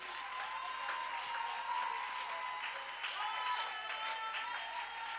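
A church congregation applauds together in praise, a steady wash of clapping that holds at an even, fairly quiet level throughout, with some indistinct voices mixed into the crowd noise.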